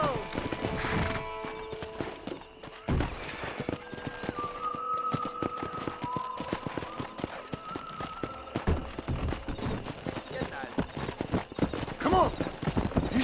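Horse hooves clip-clop steadily while a horse whinnies now and then, mixed with game music and ambient sound, from the video game Red Dead Redemption.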